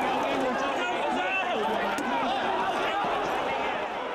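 Riot police charge into a crowd during a street protest, a loud, dense wash of running feet, shouting and agitated chatter that holds steady throughout.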